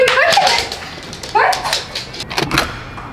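A dog barking close by, giving a few sharp yelping barks with whimpery rising tones, loud and separated by short gaps.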